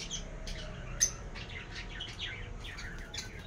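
Pet parrots chirp and squawk in a colony, a steady run of short, bright calls spread over several seconds with one sharper squawk near the start, fairly close over a low background hum.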